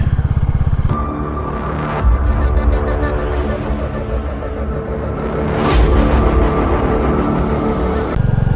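Motorcycle engine humming steadily during a relaxed ride, a continuous close rumble with a brief throttle rise near the middle and no talking.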